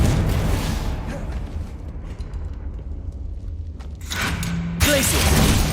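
Fiery Confringo spell blasts burst in a Hogwarts Legacy battle, with two loud booming eruptions at the start and end. A quieter stretch of rumbling game combat noise lies between them.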